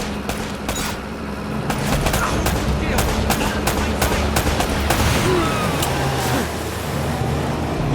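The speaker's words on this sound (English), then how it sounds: "Less talking, more shooting" A gunfight in the video game Uncharted: Drake's Fortune, with rapid bursts of automatic gunfire and single sharp shots cracking in quick succession over a rumbling background, with voices talking partway through.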